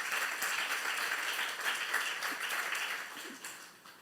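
A church youth congregation claps together during a sermon, a sustained crowd of hands beating steadily and fairly close, then thinning and fading toward the end.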